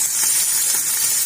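Chopped onion and garlic fry in ghee for beef paya, giving a loud, steady, close sizzle and hiss with no pauses and no voices.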